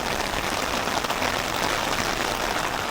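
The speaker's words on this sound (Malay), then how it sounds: "Tiba-tiba hujan makin lama makin lebat" Steady, dense hiss of heavy rain pouring down, broadband and unbroken from start to finish with no voices.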